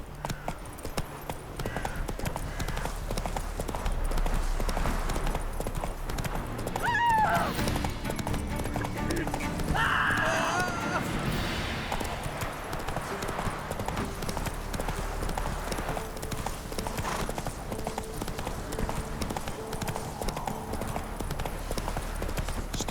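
Roach the horse galloping in The Witcher 3, a dense continuous pounding of hooves under game music and ambient noise, with brief flourishes partway through; speech is faint or absent.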